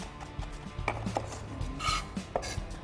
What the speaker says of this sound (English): So just strip them off the stem and give them a good, quick chop.